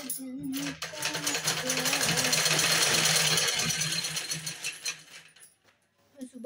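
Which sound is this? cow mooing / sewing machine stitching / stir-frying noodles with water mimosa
sewing machine stitching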